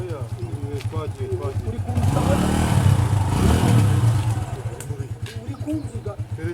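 Motorcycle idling with a rhythmic thump, then revving up for a few seconds during a riding lesson before settling back to idle, with people talking nearby.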